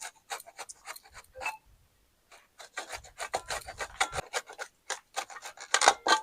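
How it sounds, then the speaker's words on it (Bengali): Green chili being cut for a raw mango mix, kacha aam makha: bursts of quick, close, dry rasping strokes with a short pause in the middle, then denser strokes toward the end. "আমি কাঁচা লঙ্কাটা কাটছি।"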